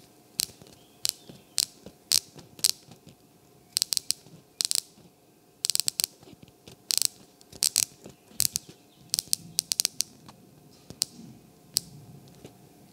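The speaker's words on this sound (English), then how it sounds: "The bezel has 60 clicks, not" The unidirectional 60-click bezel of a Tudor Black Bay Fifty-Eight Bronze dive watch, with an anodized aluminium insert, is turned in sharp, close ratcheting clicks, sometimes single and sometimes in quick bursts, against near silence.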